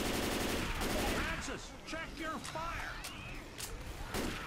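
Gunfire in the video game Left 4 Dead, rapid loud bursts of shots with zombie-like shrieks and sweeping game sounds layered over them, with a player's voice talking in places.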